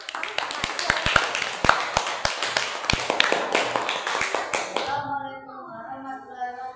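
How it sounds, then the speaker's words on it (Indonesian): Classroom applause for a student group, a few people clapping in quick uneven claps for about five seconds before it stops and a voice is heard. "kita beri aplaus dulu untuk kelompok 1"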